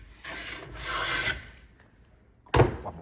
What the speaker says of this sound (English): to set my jack plane to the minimum setting on the plane blade. In the high spot, approximately 2 to 3 shavings.